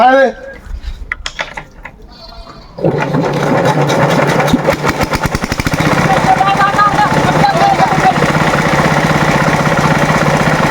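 An old engine-powered machine starts after a few quiet seconds of clatter and then runs loudly and steadily at close range, with a continuous mechanical drone and rattle, while voices talk over it.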